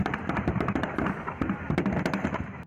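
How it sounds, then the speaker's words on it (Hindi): Illegally stored firecrackers burst after a fire breaks out in a shop, a rapid irregular string of sharp cracks and pops over a rumbling crowd-like background. "पता चला कि एक दुकान में पटाखे अवैध रूप से छुपा कर रखे गए थे, जिनमें अचानक आग लग गई।"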